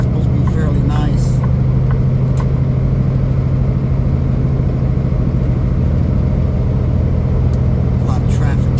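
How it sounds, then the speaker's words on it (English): Steady road and engine noise inside a car driving out of Anchorage, Alaska, in morning traffic, a continuous low rumble with a brief voice near the start. "A lot of traffic this morning."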